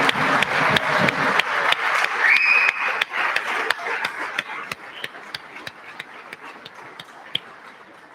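A round of applause in a state House legislative chamber, with dense clapping at first that thins into scattered, sharper individual claps as it fades away.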